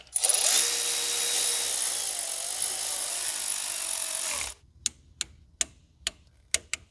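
A power tool whines steadily for several seconds while driving the front cover bolts on a supercharged Corvette engine, then stops, followed by a series of sharp ticking clicks close by.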